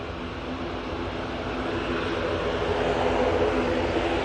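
An Air Tanker jet taking off from Manchester Airport, bound for Faro, heard as a broad, steady roar that swells slightly louder over the few seconds with low rumbling engine drone throughout.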